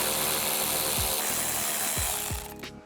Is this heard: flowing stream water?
no